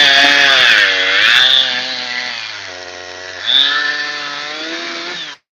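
Chainsaw cutting through an oak tree log, a loud, close, high buzzing whine whose pitch dips and rises as the chain loads and frees, then cuts off abruptly at the end.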